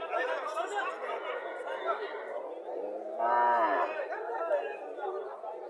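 A cow moos once, low and drawn out, close by, amid people talking and chattering around it at a cattle sale.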